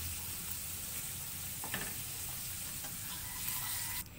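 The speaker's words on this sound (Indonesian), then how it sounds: "Kita goreng sekali." Salted fish frying in a pan, giving a steady sizzle and hiss with a few crackles and faint stirring, then dropping off abruptly at the very end, with no talk.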